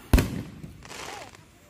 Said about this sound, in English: Do you really need to record every single firework?